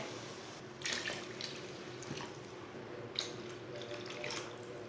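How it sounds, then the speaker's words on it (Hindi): Three glasses of water being poured into a pot of frying masoor dal, making a quiet, splashy trickle with a couple of brief louder gushes. "तीन गिलास पानी डाल लेंगे।"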